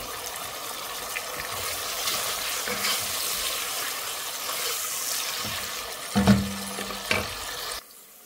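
Onions fry in oil in a pan with a steady soft sizzle and a few light stirring clatters near the end, then the sound cuts off abruptly.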